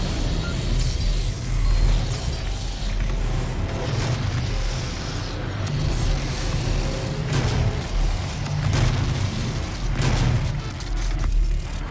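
A grenade explosion in the video game DOOM sounds as a loud, sustained booming rumble with several heavier blasts rising out of a dense, continuous wash of game noise.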